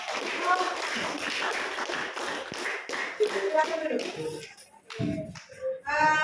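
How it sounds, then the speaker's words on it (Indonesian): A classroom of students claps for a student group after their presentation, a short scattered burst of taps and claps with shuffling and some children's voices, fading out near the end. "Ya, tepuk tangan untuk kelompok."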